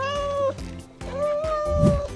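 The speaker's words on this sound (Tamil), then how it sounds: "இது பூனை மியாவ் மியாவ் என சத்தமிடும்" A cat meows twice, loud and close: two drawn-out, tonal meows separated by a short pause.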